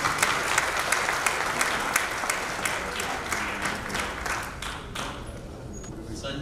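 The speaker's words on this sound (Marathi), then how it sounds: "आपण त्यांना टाळ्या वाजवून अभिनंदन करूया" Audience at a doctors' gathering applauding the organizers, a sustained, dense round of clapping from a large crowd that tapers off slightly toward the end.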